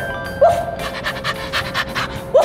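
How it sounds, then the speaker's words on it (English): A dog pants rapidly and rhythmically up close, with a couple of short whiny yelps at the start and end of the steady breathy huffing. "It's a dog!"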